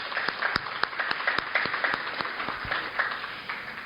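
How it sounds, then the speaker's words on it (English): An audience applauds at an end-of-year celebration, with steady, moderately loud clapping and sharp individual claps standing out as it continues. "A big round of applause,"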